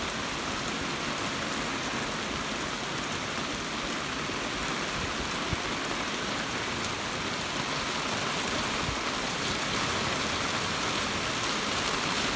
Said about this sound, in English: This rain's coming from that direction.